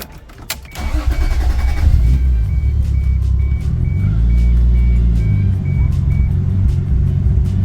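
A car engine cranks and catches, then settles into a steady, loud idle with a low rumble and slight rises in revs, heard alone without talk; the car has an aftermarket boost gauge fitted but no turbo.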